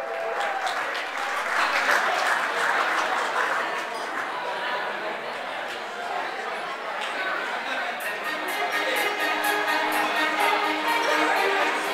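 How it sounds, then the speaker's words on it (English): Guests at a wedding reception at the Colonial in Gardner applaud loudly for the bridal party, a sustained wall of clapping mixed with crowd chatter and scattered cheers. "Give yourself one more big round of applause"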